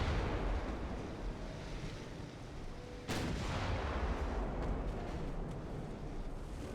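Battleship guns firing in the naval strategy game Ultimate Admiral: Dreadnoughts, a dense rumbling roar of heavy gunfire with one sharp, loud report partway through, continuing as a broad booming wash.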